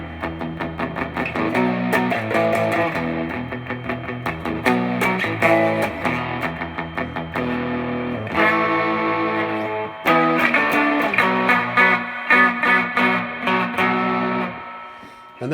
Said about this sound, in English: The distortion on this amp isn't really fuzzy